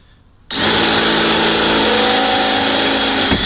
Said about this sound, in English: now we're going to move up to a little bit more of a medium size drill bit